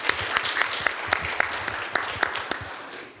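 Audience applause at a green technology and net-zero forum in Jeju, a steady wash of clapping with sharp individual claps popping out throughout, moderately loud and continuous.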